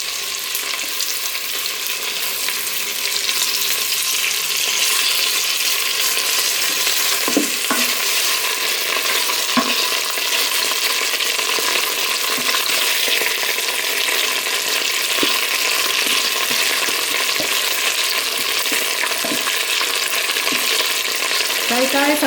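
Pieces of food sizzle and fry in a Cosori pressure cooker, a loud, steady crackling hiss throughout with occasional sharper pops and stirring.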